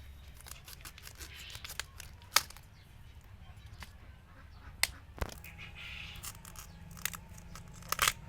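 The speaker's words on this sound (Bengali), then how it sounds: "প্রথমে ফুলকপিটারে কাটিয়ে নেবো।" A knife cuts a cauliflower into small florets, giving quiet, close, irregular crunches and sharp snaps with soft tearing between them.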